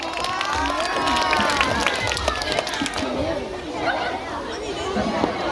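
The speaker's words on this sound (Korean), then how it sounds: "박수로 맞이해주세요" A school audience of children claps and chatters to welcome a homeroom teacher about to sing at a class festival stage event; dense, close crowd noise is strongest in the first few seconds, then settles into busy murmuring, with voices heard throughout.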